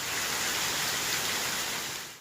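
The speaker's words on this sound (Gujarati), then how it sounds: "અત્યારે ધોધમાર વરસાદ વરસી રહ્યો છે" Heavy monsoon rain pours down steadily in the Vapi and Valsad district of South Gujarat, a dense, loud, unbroken hiss with no voices, cutting off abruptly at the end.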